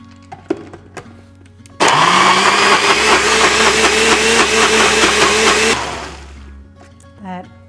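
A blender whirs loudly for about four seconds as it purees dairy-free pesto with light olive oil, starting abruptly and then winding down. Quiet clicks come before it and a brief rattle follows.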